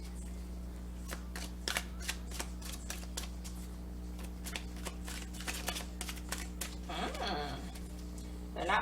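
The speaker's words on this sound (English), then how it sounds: "Maybe I've gotten too good at shuffling." Tarot cards are riffled and shuffled repeatedly in quick sharp bursts, close up and fairly quiet, with a low background hum throughout.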